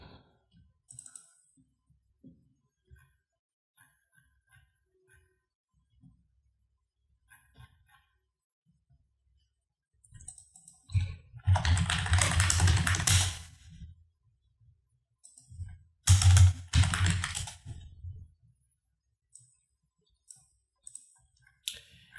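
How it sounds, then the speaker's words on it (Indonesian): Computer keyboard typing in bursts, a long run of clicking keystrokes followed by a shorter second flurry, close and fairly loud, with near silence between and no talking. "saya akan ketik batu bata"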